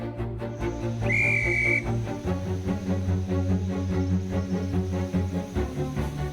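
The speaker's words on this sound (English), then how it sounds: "There's a whistle. Yeah, Hey. here we are. Here we go. And the little toot from the engine" A short, high steam train whistle sounds over a steady rumbling engine and clattering, with the low chugging continuing throughout, on a heritage line in Devon.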